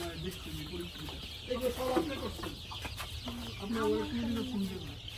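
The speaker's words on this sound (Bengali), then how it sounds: "ওই জায়গায় মুরগি ডিমাইতেছে" Farm chickens cluck in a busy poultry shed, several birds calling in overlapping bursts with a steady background hum throughout.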